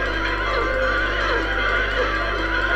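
Horses neighing in the video game Silent Hill 3, with drawn-out whinnies rising and falling over a steady, droning game background hum, moderately loud and without speech.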